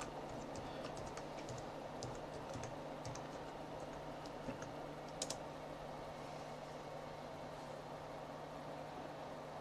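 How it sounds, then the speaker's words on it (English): Computer keyboard being typed on during password entry, faint scattered key taps over a low steady room hum. "Just click OK here and type the password."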